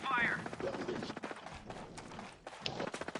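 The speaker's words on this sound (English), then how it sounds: "I'm taking fire" Gunfire aimed at the player in the video game Ghost Recon Breakpoint, a rapid run of sharp shots and bursts, loud and close, mixed in with a voice talking over the action.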